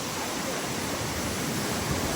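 Steady broadband rush of a waterfall heard close and constant, a dense even roar filling the whole clip with no voices over it.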